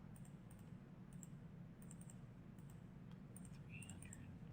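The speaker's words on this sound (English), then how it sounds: "So I need to go to a calculator, type it in." Faint, soft key taps on a calculator as numbers are entered, a scattered run of light clicks over a steady low background hum.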